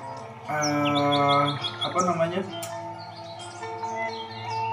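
A white-rumped shama sings a varied series of clear whistled phrases and chirps, close and fairly loud, with some rising notes and trills.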